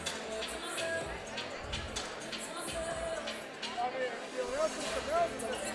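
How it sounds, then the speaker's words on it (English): Packed crowd murmuring inside Sony Hall in New York City at a boxing event, a steady diffuse babble of many voices at moderate level with a few brief louder calls rising above it. "Packed crowd here tonight at Sony Hall in the heart of New York City."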